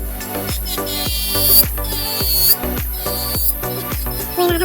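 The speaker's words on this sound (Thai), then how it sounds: "เราก็จะมาทำการเจียเอาสีออกนะคะ" A handheld electric nail drill with a medium-grit bit grinds colour off acrylic nails, giving a close high whine that dips and recovers in quick repeated strokes as the bit presses the nail.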